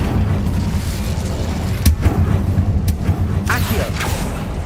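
Hogwarts Legacy's Incendio fire spell goes off as a loud, close burst of flame with booming, crackling impacts. A few sharp cracks stand out above a dense rumbling layer of game sound.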